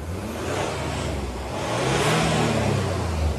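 A Jaguar car's engine revs up, a broad whirring roar that swells louder halfway through and holds, heard up close with no talking.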